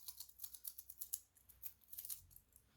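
A hollow-link metal bracelet on a small Tudor watch rattles in a quick burst of light, bright clicking jingles, close and quiet with no talk.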